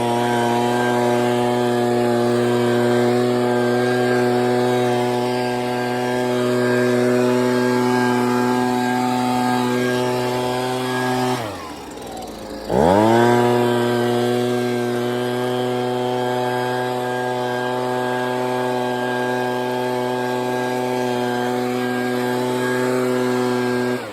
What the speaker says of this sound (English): then I'm going to leaf blow it off